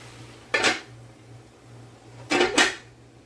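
A metal lid set onto a cooking pot of Jamaican-style curry turkey and chicken, heard as one clank followed later by a quick double clatter, close and crisp over a low steady hum.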